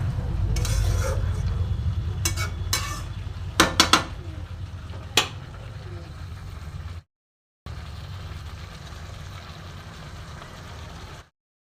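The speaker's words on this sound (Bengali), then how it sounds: "এবার আমি মশলা দিয়ে আবার একটু কষবো।" Spices and vegetables are stirred and sautéed in a pan for fish curry, a soft continuous sizzle broken by a few sharp scrapes and clinks of a spatula against the pan.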